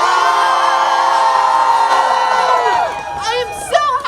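Crowd cheering erupts at a Halifax climate strike rally, a loud sustained roar of voices and whoops that swells and then tapers off, with a few scattered shouts near the end.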